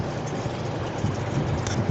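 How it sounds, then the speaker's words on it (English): A household electric fan runs steadily indoors, giving a continuous broadband whoosh with a low hum, fairly close and unchanging throughout. "Sorry about the fan."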